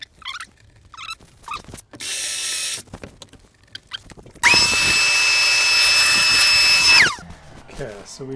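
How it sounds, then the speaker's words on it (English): A loud, steady power drill whirs for about two and a half seconds with a rising whine while drilling a pilot hole, after a shorter burst of drilling and some quiet handling noises. "We'll drill a pilot hole."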